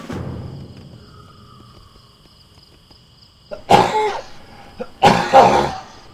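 Two harsh coughs a second apart cut through a quiet room with a faint steady hum, loud and close.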